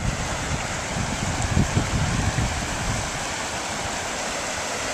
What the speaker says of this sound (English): Just love the sound of the water going over the stones here.